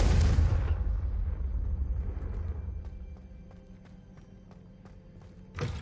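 Confringo fire spell from the video game Hogwarts Legacy, a loud booming fiery blast at the start that rumbles and fades over several seconds into quieter game ambience, with a brief sharp burst near the end.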